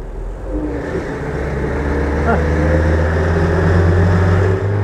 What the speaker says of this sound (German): kriegt man das Gefühl für die Maschine, die relativ hoch dreht, das hört er ja